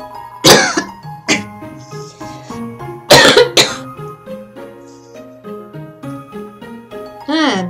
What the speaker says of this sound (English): I still got an annoying cough that will not go away